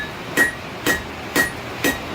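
Four evenly spaced ringing hammer blows on an anvil as hot steel is tapered for a chain hook, each strike bright and metallic, close and alone.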